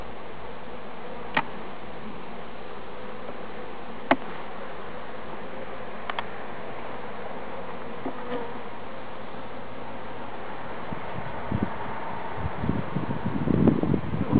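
Macedonian honey bees buzz steadily at a hive, a soft drone with occasional sharp clicks and handling knocks, growing louder and busier toward the end.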